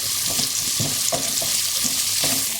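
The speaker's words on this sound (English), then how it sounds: "Now we're going to cook this for a few minutes until the onions have softened but not browned" Onions softening in a pan for a Bangladeshi vegetable curry produce a loud, close, constant sizzle, with regular stirring strokes thumping through it.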